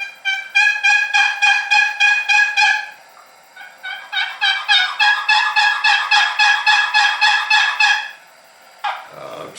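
A Lynch Model 102D turkey box call with mahogany body and walnut lid, scraped in two runs of rapid, high-pitched yelps, close and loud with a brief pause between runs.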